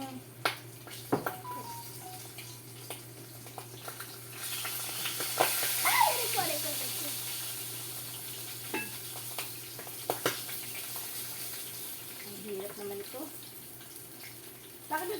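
Bangus (milkfish) frying in oil, a steady low sizzle under scattered sharp pops and clinks of cookware, with a hissing surge near the middle that settles back to a quieter crackle.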